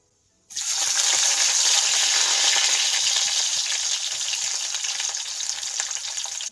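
Onion and ginger drop into hot oil in a pan for a Thrissur-style fish curry and start a loud, steady sizzle that hisses on evenly without a break, close up, with no talking.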